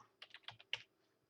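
Quick burst of computer keyboard typing while a program is being set up and named, with about six crisp, close keystrokes in an irregular rhythm, then quiet.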